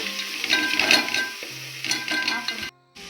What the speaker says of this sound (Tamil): ஆஃப் கேஜி சிக்கன் எடுத்துருக்கேன் அதை சேர்த்துக்கலாம் நல்லா கிளறி விடுங்க